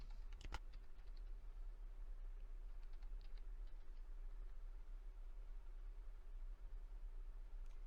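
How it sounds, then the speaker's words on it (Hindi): Quiet, scattered keystrokes on a computer keyboard, a brief cluster of louder clicks near the start followed by a few faint taps over a low steady hum. "यहाँ पे हमको टाइप करना होता है रन इन टर्मिनल"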